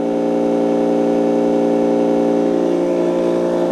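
Handheld massage gun running at its highest speed of 3,400 RPM, giving off a loud, steady motor whir with a dense buzzing drone that holds evenly throughout.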